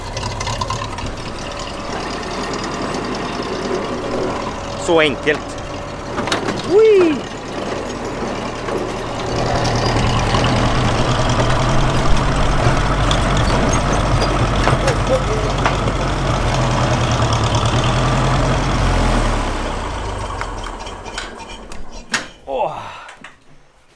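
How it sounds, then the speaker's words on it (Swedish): A tractor engine runs steadily as it is driven back and parked after the harrow is put away following harrowing of a potato field. The low rumble lasts throughout, with brief clunks and a person talking over it. "Vi ska ställa bort harven. Och ställa in traktorn."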